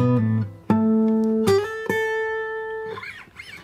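Fingerstyle guitar plays a single bar from a song, with a few plucked notes and chords ringing out clearly and sustaining, close and solo with no voices.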